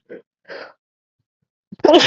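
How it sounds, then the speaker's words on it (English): A short breathy vocal buildup, a pause, then one loud, sharp sneeze close to the microphone. "I gotta sneeze."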